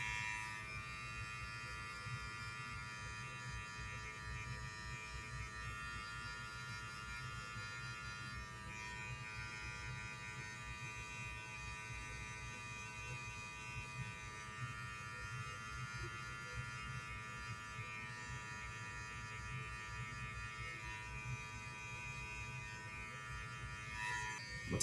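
Electric hair clippers with the guard closed buzz steadily through a self-cut high taper, one continuous low hum held at an even level the whole way, fairly quiet with no voices.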